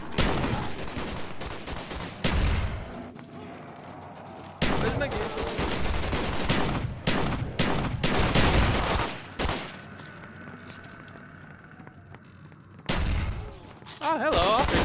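Repeated bursts of gunfire in the zombies mode of the VR video game Contractors, loud rapid volleys that start and stop over several seconds, with quieter gaps between them.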